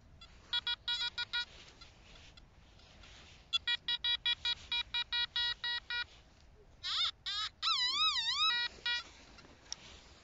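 A metal detector sweeping sand sounds repeated short electronic beeps in bursts, then a warbling, wavering tone near the end, all over faint background noise.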